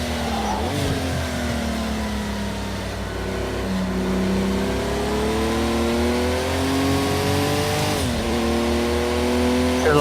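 A Porsche 935 race car engine in Project Cars 2 revs hard and continuously, its pitch climbing through gears with brief drops at each shift, loud and close with a steady roar.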